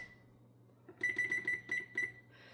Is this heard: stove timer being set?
yes